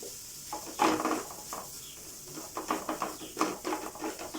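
Six eggs are stirred in a pan for egg rice, heard as soft scraping and clinking strokes in irregular bursts over a faint sizzle, fairly quiet and close.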